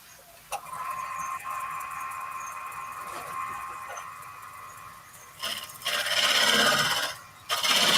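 Wood turning on a lathe while the bottom of a piece is flattened, with a steady whirring drone, tool scraping and louder rough cutting toward the end.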